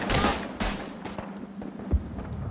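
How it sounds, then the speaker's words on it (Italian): Gunfire in the World War I shooter game Verdun sounds as several sharp, scattered shots and bursts, some close and some further off, over a low background. "Ho anche sparato, ok?"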